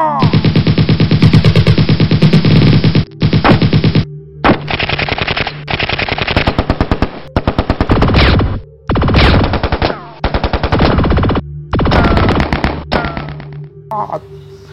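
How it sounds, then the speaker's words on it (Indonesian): Loud bursts of rapid automatic gunfire rattle in long and short volleys, separated by brief pauses. "Kedua kelompok dari 2 bukit berseberangan melepaskan tembakan."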